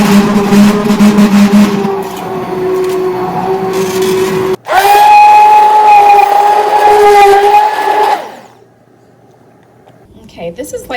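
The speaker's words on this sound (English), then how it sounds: "I am going to go ahead and blitz this up with my stick blender" A stick blender purees strawberry sauce in a steady, loud motor whine that shifts pitch partway through as it works the fruit, then cuts out, leaving near quiet.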